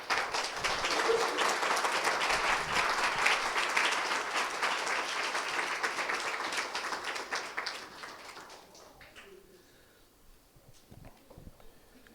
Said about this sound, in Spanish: Le pueden dar un aplauso al Señor por eso.